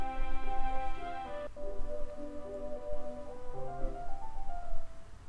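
Echoey guitar playing inside a classroom, heard from outside in Doki Doki Literature Club Plus: a few soft, reverberant plucked notes and short phrases, faint and distant over a low background hum.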